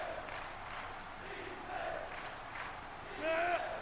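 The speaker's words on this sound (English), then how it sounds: "You can hear this Cookeville crowd getting into it here" A football crowd at a Cookeville home game in a Tennessee Tech video-game broadcast cheers and roars as a distant, steady wash under the commentary, swelling briefly near the end.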